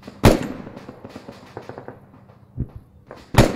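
Gunshots fired at enemies out in a desert: a few loud, sharp single cracks spaced apart, with faint clatter between them and no talking.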